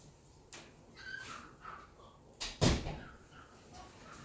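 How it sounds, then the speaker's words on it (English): A door is shut indoors with a distinct thud, preceded by faint rustling and small movement noises, all fairly quiet with no one talking. "I have to go and shut the door."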